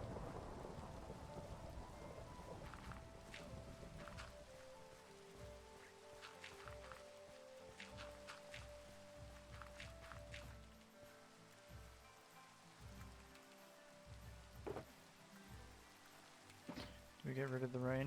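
Steady rain falls in a survival video game, a dense hiss running throughout with scattered droplet-like ticks and occasional louder bursts, as if thunder or heavier downpour, over a low rumbling bed.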